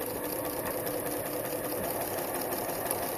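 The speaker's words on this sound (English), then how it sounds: "So I'm going to sew to the end," A sewing machine runs steadily, stitching pre-cut quilting fabric strips with right sides together, a close, continuous mechanical whir with no pauses.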